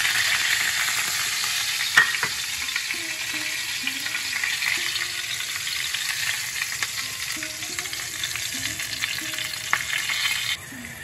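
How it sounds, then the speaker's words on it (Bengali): Whole spices including dried red chillies hit hot oil for a tempering before cauliflower and rui fish go in, giving a dense, even sizzle with a few sharp pops and light stirring clicks, close and alone. "ফোড়নটা দিলাম"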